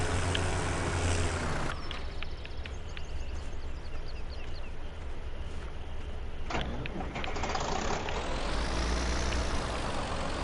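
An old Massey Ferguson tractor from a Farming Simulator 2017 mod pack drives along at about 26 mph, its steady mechanical engine and gear rattle running continuously with shifts in tone partway through.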